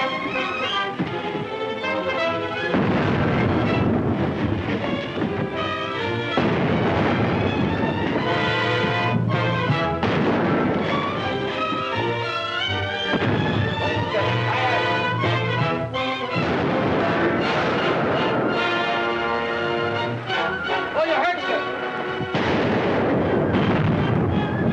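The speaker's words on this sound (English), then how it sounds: "Stand by for broadside. Stand by! A broadside!" Ship's cannons fire a broadside in a 1936 war film, heavy booming blasts repeating loudly one after another across the whole stretch with rumbling tails and no pause.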